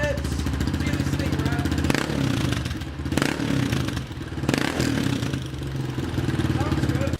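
A warmed-up Honda CRF230F dirt bike, carburetor recently uncorked and rejetted, idles and runs loudly close by with a steady rough drone and brief clattering dips throughout.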